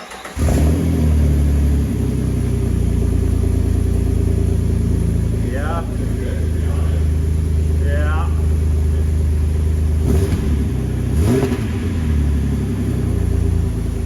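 A Jeep LJ engine with a new exhaust starts and settles into a steady, deep idle close by, with a voice briefly speaking over the rumble.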